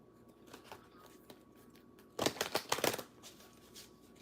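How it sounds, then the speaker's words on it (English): Oracle cards being shuffled by hand, a sharp close riffle of crisp card flutters lasting under a second, framed by quiet soft handling noises before and after. "I just stopped shuffling."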